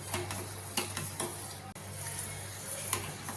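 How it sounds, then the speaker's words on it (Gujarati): Sugar is stirred in a pan until it melts, for homemade mango candy ice cream. Soft, faint scraping strokes and light ticks of the spoon sound against a gentle sizzle and a low hum. "તો ખાંડ ઓગળે ત્યાં સુધી આપણે આવી રીતે હલાવતા રહીશું"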